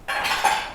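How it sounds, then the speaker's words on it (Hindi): A spoon stirs chutney into corn in a bowl, giving a short burst of light metallic scraping and clinking against the dish. "चटनी मिक्स कर लेते हैं।"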